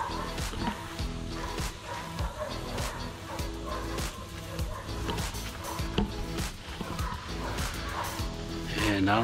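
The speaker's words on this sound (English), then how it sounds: "I don't know if you can hear it, a bunch of dogs barking" Several dogs bark and yip in the distance across the Withlacoochee River, a scattered chorus under steady outdoor noise and someone talking.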